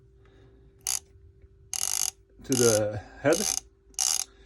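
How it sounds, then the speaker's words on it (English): A Kamasa ratcheting screwdriver mechanism clicks in several short bursts, each a quick rattle of pawl clicks, with a steady hum underneath and someone speaking briefly between them. "It's a ratcheting mechanism, and this is just a direct drive"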